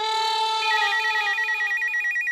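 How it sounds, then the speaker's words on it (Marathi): A telephone ringtone sounds loud and close as a steady electronic melody with a rapid warbling trill, continuing alone without any voices. "फोन रिंगच्या आवाजात काय रडतीयेस? फोन वाजतोय."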